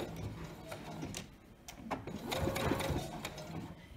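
A sewing machine back tacks a seam on pajama shorts fabric, giving a quiet mechanical whir that stops and starts in short bursts, then runs longer and a little louder toward the end, with no speech.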